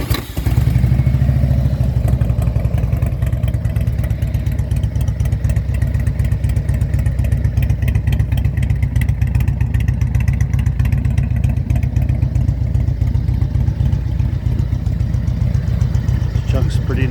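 A 2002 Harley-Davidson Road King Classic with a 95 cubic inch engine runs steadily after a warm start, its loud, rumbling low throb continuous and close for the whole stretch, with a voice talking over it.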